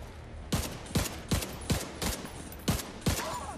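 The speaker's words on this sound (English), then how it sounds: "Damn grenade launcher now." Grenade launcher fire in The Division 2 video game: seven sharp, heavy blasts in quick, fairly even succession, each one loud and close with a short decaying tail.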